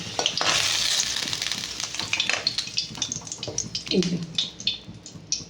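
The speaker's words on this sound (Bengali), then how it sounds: "অনেকটা আলু সেহেতু দুবার ধরে দিয়ে দেবো একেবারে অত ভাজতে পারবো না দুবার ধরে ভেজে নেব" Potatoes frying in oil in a pan give a steady, close hiss and sizzle, with scraping stirring clatters throughout and a brief spatter of louder crackle near the end.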